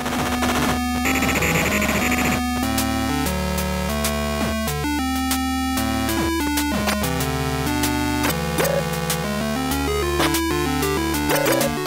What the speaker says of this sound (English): Rare did a great job recreating the music and sound effects of the original machine, including the robotic voice samples.